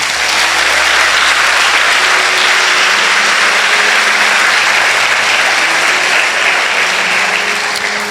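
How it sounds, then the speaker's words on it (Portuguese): Sustained, loud applause from a church congregation fills the room steadily for about eight seconds, a dense wash of clapping with no voices on top. "Pode dar um salve de palmas para Jesus, amado."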